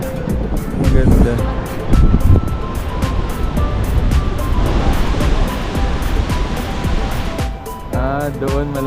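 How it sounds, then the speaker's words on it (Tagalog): Strong ocean waves breaking at a surfing beach in Elyu, a continuous rushing roar of surf with wind, heard under people talking nearby. "Maraming alon doon. Malakas ang alon."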